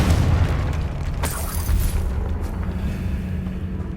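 A Confringo spell explodes in Hogwarts Legacy as a deep booming blast that swells and then rumbles out into a lingering low roar, with no talk.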